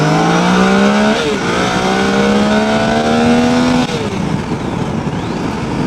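A 2016 Triumph Tiger 800XCa motorcycle accelerates hard onto a highway, its engine rising in pitch through several gear changes, loud and close with wind noise.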